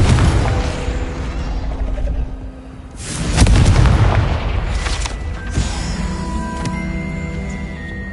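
A Confringo fire spell explodes in the Hogwarts Legacy video game, one loud, deep boom midway with a rumbling tail, surrounded by clanking, mechanical game effects and a sustained ambient bed.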